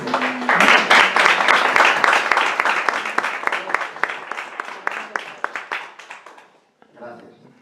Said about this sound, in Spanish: Yo creo que merece un aplauso.